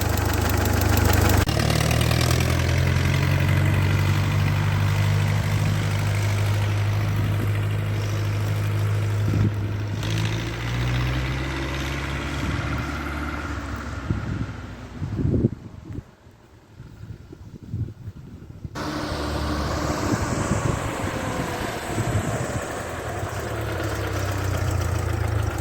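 A 1948 Ford 8N tractor engine runs loud and close, a steady low idle with rising revs and a brief dip and surge partway through, no voices.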